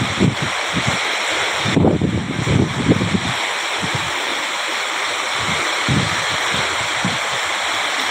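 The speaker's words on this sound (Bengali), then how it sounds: "পানির ধার দেখেন, পানি কি পরিমাণ পড়ছে। এই যে ঝড় উঠে গেছে" A heavy storm with pouring rain and rushing water roars steadily and loudly, close by, with gusty surges and no talking.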